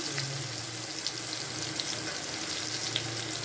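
Cumin seeds and whole garam masala sizzle in hot oil in a pan for a chicken curry, a steady bright crackling hiss with faint pops, close and continuous.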